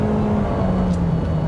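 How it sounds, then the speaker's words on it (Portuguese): Inside the cabin of a Toyota Corolla Cross, the naturally aspirated high-revving engine gives a loud, steady drone with a sustained hum and slight whir, heard alone and close throughout. "Para ser franco, eu esperava até um pouco mais de isolamento aqui do motor"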